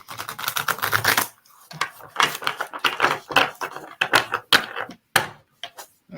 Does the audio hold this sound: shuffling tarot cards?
yes